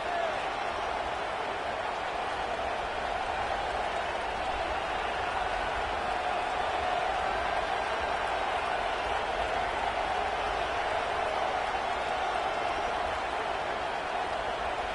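A stadium crowd at a college football game keeps up a dense, continuous roar for the whole stretch, loud and steady, with a commentator talking over it.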